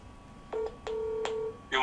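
A telephone number is dialed, with a few distinct touch-tone beeps spaced unevenly, clear and close over a quiet background.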